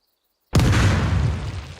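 A dynamite bundle detonates in the video game Planetsmith, one loud, close blast that breaks out of silence and then rumbles and slowly fades.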